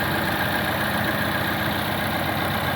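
A 1985 Chevy S10 engine idles steadily with a constant, even drone and hum, close and uninterrupted with no voices.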